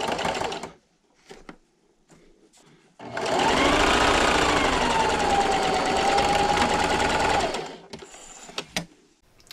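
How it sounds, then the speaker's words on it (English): A sewing machine stitches fabric strips for a table runner, running over pins in one loud sustained burst of rapid whirring for several seconds, with quieter handling sounds before and after. "And sometimes I actually just sew over my pins"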